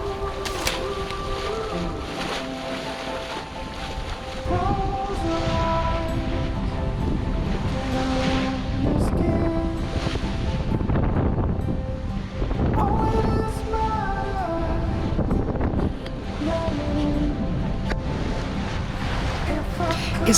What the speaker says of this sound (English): The sound of the water parting, spraying and running down the boat, and to hear the wind in the sails is what sailing is all about.